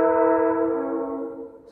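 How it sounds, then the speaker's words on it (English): A train horn sounds from a track right beside a house: a loud, sustained, chord-like blast that holds steady and then fades near the end, with no voices over it. "I live next to a train track."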